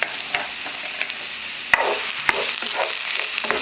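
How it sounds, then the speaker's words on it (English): Onions and garlic fry in a pan while being stirred for a creamy tomato pasta. A loud, continuous sizzle runs throughout, with sharp clicks and scrapes from the utensil at irregular intervals. "what I'm gonna do is I'm just gonna add some of the garlic, and then we're gonna mix everything together"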